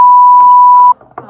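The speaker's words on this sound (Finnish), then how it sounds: "Tähän tulee piip" A loud, steady censor bleep tone holds for just under a second, then cuts off into quiet background sound with faint movement.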